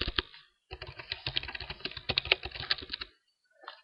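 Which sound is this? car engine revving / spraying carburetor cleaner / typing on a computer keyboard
typing on a computer keyboard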